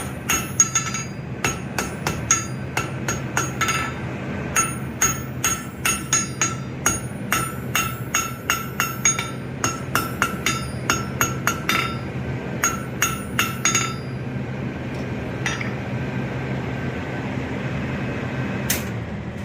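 A blacksmith forging a donkey head beats metal on an anvil with a cross peen hammer, giving a steady run of sharp, ringing strikes at an even rhythm that thins to a few scattered blows near the end.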